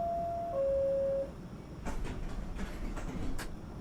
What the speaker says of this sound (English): Next, this is the number 7 local train to Times Square,